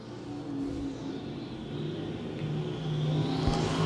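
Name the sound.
stock cars racing at I-35 Speedway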